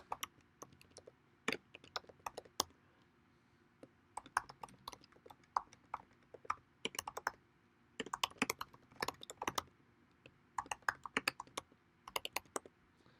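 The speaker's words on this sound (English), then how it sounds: "let's type in the name of a bug" Typing on a computer keyboard: bursts of crisp, close key clicks in irregular rapid clusters separated by short pauses, in a quiet room with no talking.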